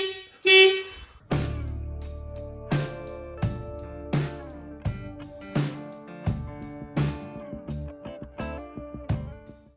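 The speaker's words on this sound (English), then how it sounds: "But I do have a VW horn on my Firebird," A Volkswagen horn fitted to a Pontiac Firebird gives a long first blast, then a run of short, evenly spaced beeps, loud and close, with no voices.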